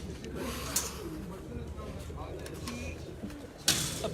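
Purebred pigeons give low, soft cooing close by amid a murmur of background voices, with a couple of sharp rustling or wing-flap sounds punctuating it.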